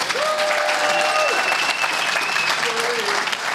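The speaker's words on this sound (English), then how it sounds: "Can we have a huge round of applause" Live audience applause in a theatre tent at a country game fair, a dense steady wash of clapping filling the whole stretch, with a couple of cheers or whistles rising above it.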